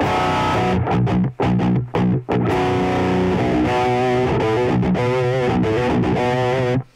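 Electric guitar played through an amp modeler with its cabinet simulation mic turned off, distorted chords and riffs with a few brief choked pauses, loud and up front with no voices.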